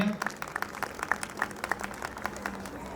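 Audience applause at a gathering at Parshuram Dham, Limbdi, welcoming a speaker: a small crowd's sparse, steady clapping lasting a few seconds, fairly close and moderate in volume.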